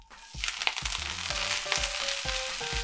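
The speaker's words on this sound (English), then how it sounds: "Now these are making a lot more noise because the fat's hotter." Brussels sprouts hitting hot bacon fat in a pan, sharp crackling sizzle with repeated bursts as pieces land and shift, fairly close and lively, no talk.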